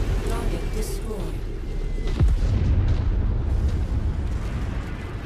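A destroyed target explodes in the MechWarrior 5 video game, a deep rumbling boom rising about two seconds in and rolling on under continuous game noise, with a voice speaking early on.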